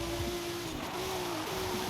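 A Nissan 350Z engine in Forza Horizon 5, all-wheel drive with traction control on, holding a steady loud mid-range drone that shifts pitch slightly as the revs change, with no voice over it.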